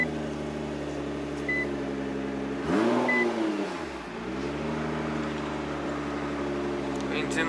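A Nissan GT-R Black Series starts up: a low idle hum shifts and swells into a brief rev and then settles back into a steady idle, with a faint chime near the start.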